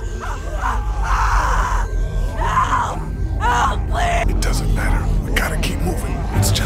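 A woman screams in The Walking Dead: Season One video game, Episode 3 'Long Road Ahead'. Anguished cries and groans come in repeated bursts over a low rumbling backdrop, with voices talking among them.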